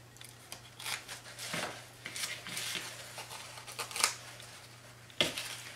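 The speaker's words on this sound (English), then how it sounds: "Now I'm just going to go ahead and trim some of the ends on here so they're kind of uneven" Scissors trimming the uneven ends of paper streamers on a children's windsock, a series of close, crisp snips and rustles of paper over a steady low hum, with no talk.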